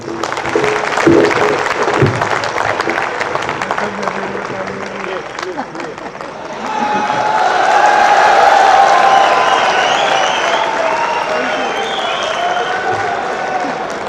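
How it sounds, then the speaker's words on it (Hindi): Audience applause at a 2006 kavi sammelan (poetry gathering) at Jaypee University of Engineering & Technology, swelling from murmur and talk into a sustained round of clapping that fills the hall. "एक बार ताली वादन हो जाए।"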